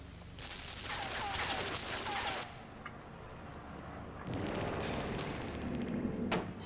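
Gunfire rains down on the player in the video game LIMBO, coming as rough, crackling bursts of shots. One long volley is followed by a short lull, then a second sustained barrage with a sharp crack near the end.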